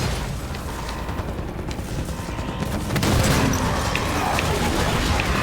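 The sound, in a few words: gunfire in the video game Halo 5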